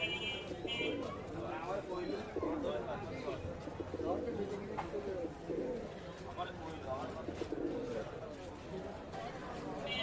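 Pigeons coo and call steadily at a large, crowded pigeon market at Khalishpur Nayabati, the birds mixed into a constant busy crowd din with people talking throughout.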